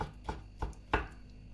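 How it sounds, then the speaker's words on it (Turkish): A knife chops roasted eggplant on a board in three soft, evenly spaced strokes, close and quiet with no talk. "Ve ince ince doğruyoruz."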